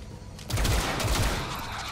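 Burst of gunfire from a shot in the video game XCOM Chimera Squad, a short loud rattling volley that starts after a brief quiet lead-in and decays into a lingering tail, with no talking.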